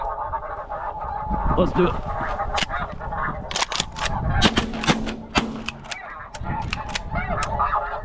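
Snow geese honking in a loud, dense chorus during a Missouri spring conservation-order hunt, with sharp nearby shotgun blasts cracking through the flock and someone speaking briefly.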